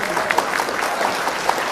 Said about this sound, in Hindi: एक बार जोरदार तालियां काजी नबील अहमद के लिए